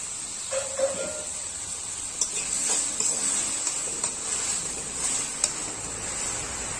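Tomatoes with salt fry in a pan for badi saag, giving a soft, steady sizzle with a few stirring scrapes and light clinks of a spoon against the pan, fairly quiet and with no talk.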